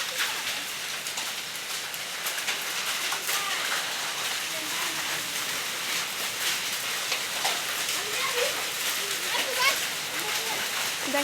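A hailstorm in Bangladesh, hailstones and rain drumming steadily and evenly on surfaces nearby, a thick unbroken hiss of impacts with faint voices in the background.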